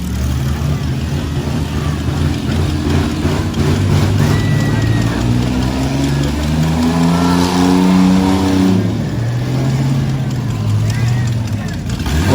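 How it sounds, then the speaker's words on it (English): Full-size truck engine revving hard during a fairground truck race heat, a loud roaring rise and fall in pitch, with a commentator talking over it throughout. "Nate says, I need some RPMs"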